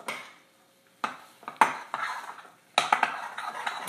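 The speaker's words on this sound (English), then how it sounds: "All you do then is by hand just take a spoon and mix it up" A spoon mixes a vegan mixture containing red onion by hand in a bowl, giving several separate scraping, clinking strokes with short pauses between them.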